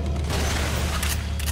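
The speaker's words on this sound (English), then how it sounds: "Grenade." A grenade goes off in the Resident Evil Umbrella Chronicles shooter, a loud, dense rumbling blast with heavy low-end boom that rolls on and crackles through its short span.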